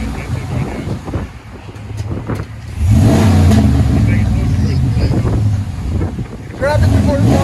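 Deep, loud rumble of a 2020 RAM 1500 pickup with a 5.7L HEMI V8 and dual Flowmaster 40 Series exhaust, revving up and holding steady, heard close amid wind buffeting and people talking.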